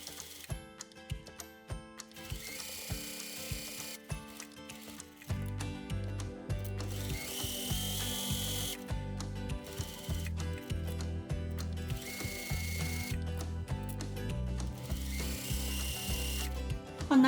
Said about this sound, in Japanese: アイロンで整えたら、ここの際にステッチをかけていきます。